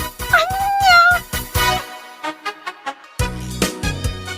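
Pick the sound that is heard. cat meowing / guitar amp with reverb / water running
cat meowing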